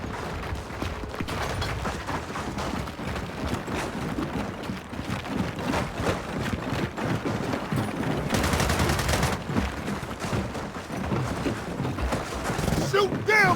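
Relentless gunfire in a Gears of War 4 Horde mode fight, rapid automatic bursts and overlapping shots with mechanical clanks, dense and close throughout, with voices shouting over the battle.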